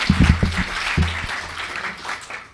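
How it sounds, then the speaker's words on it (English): Audience applause at a panel event on education and labour for young people with disabilities, a moderate round of clapping that starts strong with some low voiced murmur and gradually tapers off. "I think we need another warm round of applause for our panel and our facilitator."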